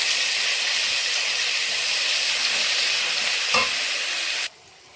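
Ginger garlic paste frying in a pan sends up a loud, steady hiss of sizzling that holds evenly, then cuts off abruptly near the end.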